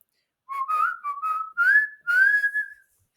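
A whistle sounds in a classroom as a signal, heard alone as a series of clear, loud tonal bursts, rising and sliding, across about two and a half seconds with brief gaps between them.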